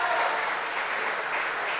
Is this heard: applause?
yes